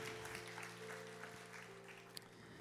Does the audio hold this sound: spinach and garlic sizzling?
no